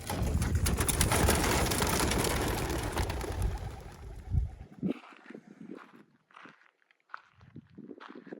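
Racing pigeons released for a 100-mile tune-up race: a loud burst of many wings flapping at once fades over several seconds, leaving scattered fainter flutters and soft sounds in the open air.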